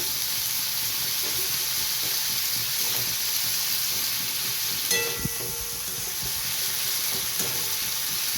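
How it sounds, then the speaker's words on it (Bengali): Steady, close sizzling of shrimp frying in a hot pan, with a brief clink of stirring partway through. "চিংড়ি মাছটা লাল করে ভেজে নিয়ে হয়ে গেছে"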